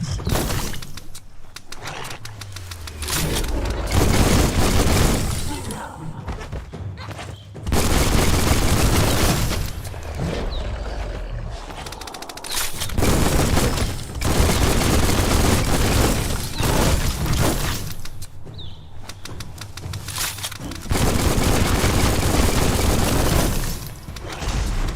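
Heavy gunfire and explosions in the game Biomutant: bursts of rapid shots, shattering crashes and booming blasts come in loud waves separated by brief quieter gaps over a long stretch of combat.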